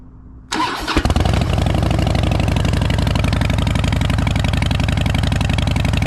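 A Harley-Davidson Dyna motorcycle engine cranks briefly, catches, and settles into a loud, steady, loping idle right next to the listener, with no talking.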